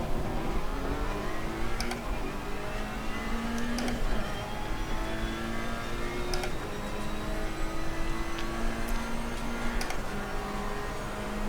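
Ferrari 488 GT3 race car in Assetto Corsa Competizione at Monza, its engine droning steadily throughout with rising and falling pitch through gear changes and upshifts, loud and continuous with no voices.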